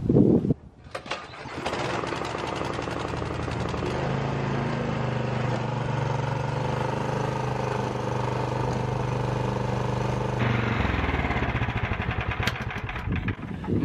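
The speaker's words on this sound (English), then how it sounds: "I'm going to put this snowblower on level ground, run it, and check the level of the oil" A Toro snow blower engine starts up and runs steadily on level ground, a loud continuous small-engine drone holding an even pitch for several seconds before shifting slightly near the end.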